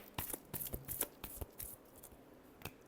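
Tarot cards shuffled by hand, a quick run of crisp riffling snaps and flutters in uneven bursts, close and fairly quiet, with no talk.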